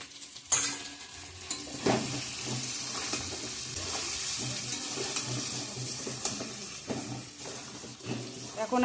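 Olive pickle being stirred in a pan after dry-roasted spice is added, giving a continuous soft scraping and sizzling texture with occasional louder spoon knocks, and a quiet voice faintly present.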